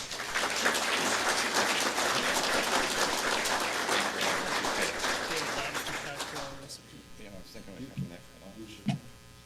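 A Rotary club audience in Toledo applauds to welcome speaker Jeff Levesque, steady clapping filling the room for several seconds before fading into a few scattered claps and a low electrical hum.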